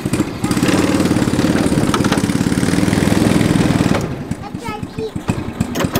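A small tractor engine idles with a rapid, chugging rhythm for several seconds, then quiets as voices talk nearby.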